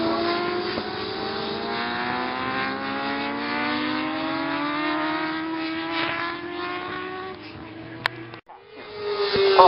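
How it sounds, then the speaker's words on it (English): Yamaha R6 racing motorcycle engine from a race at Anglesey, a loud continuous high-revving whine with rising pitch sweeps as the bike pulls through gears, followed by a brief drop and a fresh surge of revs near the end. "this will be a fine ride from Chris Smith, the Alpha construct R6 Yamaha then"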